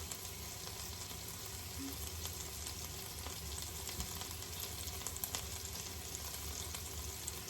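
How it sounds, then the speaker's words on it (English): Two stuffed peppers fry in a pan with a steady, close sizzle and crackle that holds evenly throughout, with no voices. "I wouldn't normally let you stare at a screen watching two peppers fry"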